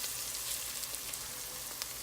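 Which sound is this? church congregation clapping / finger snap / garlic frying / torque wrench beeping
garlic frying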